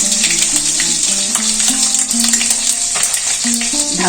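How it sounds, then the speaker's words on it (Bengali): Dried red chillies and bay leaves frying in hot mustard oil in a kadai, a steady loud sizzle and crackle with light stirring, close up and without talk. "তেল গরম হয়ে গেছে, তেলের উপরে দেবো 2 শুকনো লঙ্কা, 2 তেজপাতা"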